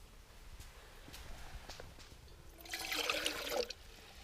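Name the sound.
billy can scooping water from a silty stream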